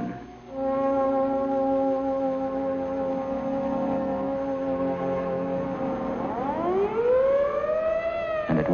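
A civil defense siren from 1955 wails steadily and loudly for most of the clip, then its pitch winds down and rises again near the end, sounding alone with no voices.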